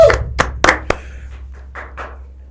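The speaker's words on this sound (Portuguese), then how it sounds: "Bia, cadê você no estúdio para fazer palmas?" A few sharp hand claps, about four quick smacks close together, then a faint rustle as the room settles; no speech.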